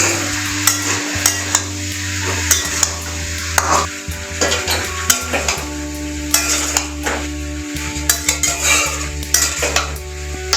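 Kohlrabi and potato pieces fry in oil in a pan, with a constant sizzle beneath repeated scraping and clinking of a spatula stirring against the metal, close and fairly loud.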